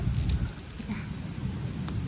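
Light rain patters steadily outdoors while someone gathers fiddlehead fern shoots on slippery ground in Norway, with a low rumbling wash of noise throughout.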